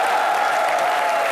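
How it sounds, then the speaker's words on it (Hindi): A television comedy show's studio audience applauds loudly, a dense continuous roar of clapping filling the brief moment without pause. "दास बाबू के लिए जोरदार तालियां।"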